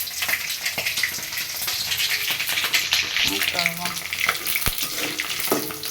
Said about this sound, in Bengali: আলু ভাজতে দিছি